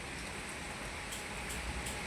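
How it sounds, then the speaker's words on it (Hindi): Heavy rain falls in a dense, even hiss that holds steady throughout, soft and continuous with no voices over it. "तेज बारिश हो रही है, ये देखो।"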